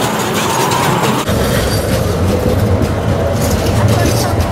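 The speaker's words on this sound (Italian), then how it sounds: "Arriva il tram, che bello! Guardate il tram!" A tram pulling in at a stop in Timișoara, a loud close rumble of wheels on rails with rattling and a faint squeal, while a voice talks over it.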